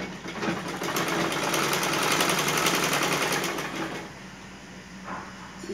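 Sewing machine stitching a seam on a pair of pants, a steady fast mechanical whir running continuously for most of the stretch before it slows and fades near the end.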